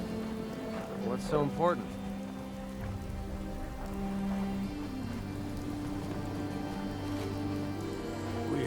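Steady rain falling in the Fallout 4 wasteland, a constant patter of drops on surfaces that continues under a brief spoken line and background game sounds.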